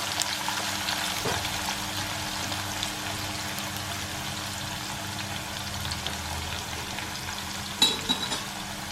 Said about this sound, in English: just fry it in a very low flame